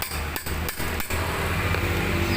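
A hammer strikes the front shock of a Honda Scoopy scooter during disassembly, four sharp evenly spaced metallic blows up close, followed by a steady workshop hum.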